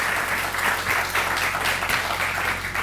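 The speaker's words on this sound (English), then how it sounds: "So please, a round of applause for those two in particular." Audience applause at a housing dedication ceremony: a steady, sustained wash of many hands clapping at moderate distance, with no voices over it.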